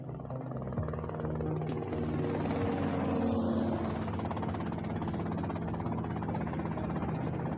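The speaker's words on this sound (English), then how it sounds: "Okay, that's them in the chopper." A helicopter in the video game GTA Vice City flies with a loud, steady rotor thrum and engine drone that swells slightly in the middle, running continuously without speech.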